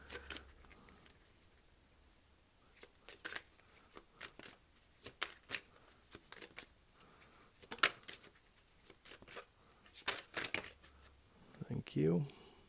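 Tarot cards being shuffled close up in a quiet room, with repeated soft riffling bursts and card flicks and a brief voice toward the end.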